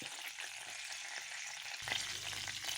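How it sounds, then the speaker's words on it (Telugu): Mustard seeds, urad dal and chana dal fry in hot oil with a steady close sizzle, a brief stir, and a fuller, louder crackle toward the end. "నూనె కొద్దిగా కాగాక దాంట్లో కొద్దిగా ఆవాలు మినప్పప్పు శనగపప్పు వేసుకోవాలి"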